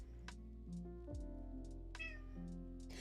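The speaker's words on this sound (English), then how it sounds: "Did you hear my cat meow?" A pet cat meows faintly several times, in short separate calls, heard from a distance over a steady low hum and soft background music.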